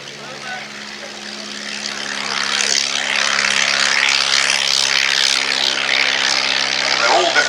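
A propeller aircraft takes off in a handicap air race at a Shuttleworth airshow; its engine drone swells steadily and stays loud while a commentator speaks over it.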